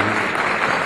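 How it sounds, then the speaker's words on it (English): Dinner audience at an awards event clapping, a brief dense burst of many hands at steady loudness. "We must clap you so much."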